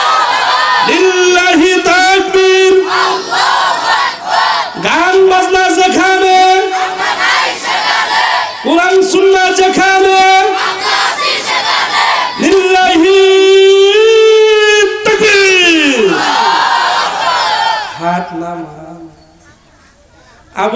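A crowd at an Islamic religious gathering (waz mahfil) in Jamalpur chants the takbir response in repeated loud, rhythmic unison shouts, four or five bursts, each a sustained roar of many voices, before the chanting trails off.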